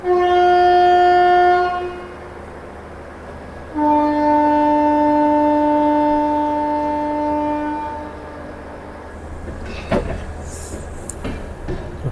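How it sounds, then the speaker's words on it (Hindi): The Kotdwar Express, an LHB train, sounds a loud sustained horn at Tapri Junction, first in a short blast, then after a pause in a longer one. Rumbling rail noise and a few sharp clanks follow as the train departs. "ठीक 1:15 पर हमारी ट्रेन का डिपार्चर हो गया है टपरी जंक्शन से"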